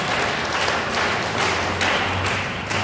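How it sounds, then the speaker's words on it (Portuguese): Church congregation at a Sunday worship service applauds, a thick, continuous burst of clapping that swells in waves, loud and close with no voices on top. "pode aplaudir o nome do Senhor"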